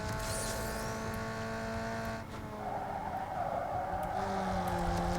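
Engine of a street car accelerating in Need for Speed Underground 2, a steady high-revving drone with rising harmonics and a brief tire skid near the start, continuous and fairly loud throughout.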